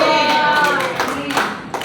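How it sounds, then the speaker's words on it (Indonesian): Brief burst of audience clapping at a religious gathering in Indonesia, loud and close, fading unevenly toward the end. "tepuk tangan sekali lagi untuk mereka"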